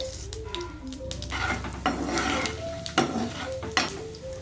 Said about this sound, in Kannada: ಹಾಗೆ ಲೈಟಾಗಿ ಫ್ರೈ ಮಾಡ್ಕೊಳ್ತಾ ಇದ್ದೀನಿ ಸ್ವಲ್ಪ ಲೋ ಫ್ಲೇಮ್ ಇಟ್ಕೊಂಡು ಫ್ರೈ ಮಾಡ್ಕೊಳ್ಳಿ